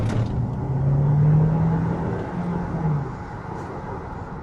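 A Hyundai Tucson N Line in power mode accelerates, its engine note rising into a swelling drone that peaks and then eases off, heard from inside the cabin over steady road noise, with no talk.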